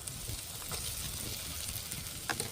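Ginger and then garlic dropped into hot oil in a frying pan, a continuous close, bright sizzle with faint crackles and a light stir, no talking.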